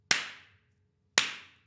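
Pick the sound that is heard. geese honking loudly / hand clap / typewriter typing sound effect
hand clap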